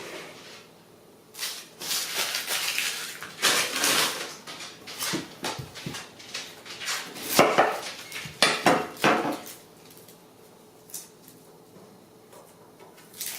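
Knife chopping onions on a cutting board in a home kitchen, heard as irregular bursts of sharp, near taps and clatter, some clustered quickly and others spaced out, with no talking.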